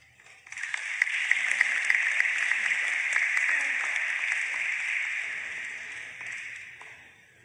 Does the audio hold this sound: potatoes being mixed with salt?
no